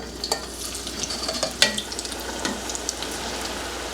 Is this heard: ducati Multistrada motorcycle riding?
no